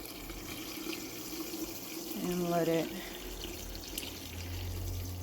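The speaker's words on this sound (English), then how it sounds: "Just going to add our hot water here" Hot water pours steadily from a kettle into a glass jar holding gallon-sized tea bags, a bright rising fill lasting a second or so amid kitchen background, with a person speaking briefly over it.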